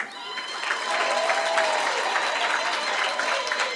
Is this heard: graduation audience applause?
yes